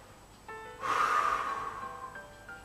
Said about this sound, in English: Deep breathing again.